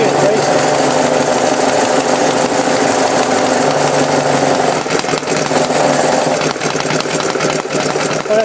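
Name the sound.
100-year-old Briggs Model F engine racing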